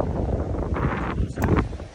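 Wind gusting across a swaying suspension bridge outdoors, a steady rushing roar with loud buffeting bursts against the microphone, with faint voices mixed in.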